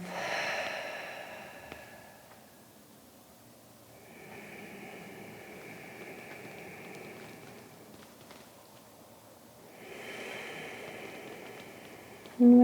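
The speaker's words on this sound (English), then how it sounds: "You can always take a few exhales out through the mouth." A person in a yoga session slowly exhales through the mouth several times, producing soft, breathy rushes of air that rise and fade in long, calm waves with quiet gaps between them.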